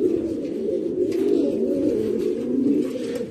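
Pigeons from a breeding loft in Sagua la Grande cooing steadily and close by as they are released, low throaty coos rolling on without a break.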